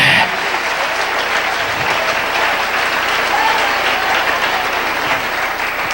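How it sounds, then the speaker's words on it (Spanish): A church congregation at an evening Spanish-language service applauds: dense, loud, continuous clapping that fills the room evenly from start to finish. "Den un aplauso al Rey en esta preciosa noche."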